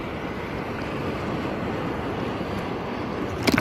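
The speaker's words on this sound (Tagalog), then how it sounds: "Lalaki ng alon." Big sea waves wash and roar around a fishing boat at sea, a dense continuous surf noise with wind buffeting the microphone and a brief knock near the end, no talking.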